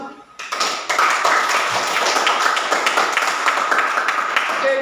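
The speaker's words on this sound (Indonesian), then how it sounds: "kalau tidak ada kita berikan aplaus kepada kelompok 1" Classroom applause for a student group after their presentation, a dense burst of many hands clapping that starts after a short pause and holds steady and loud until the end.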